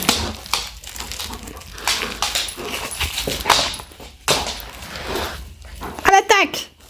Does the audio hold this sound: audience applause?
no